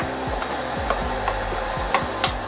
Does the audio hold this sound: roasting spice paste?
yes